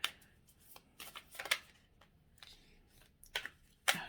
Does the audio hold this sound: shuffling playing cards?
yes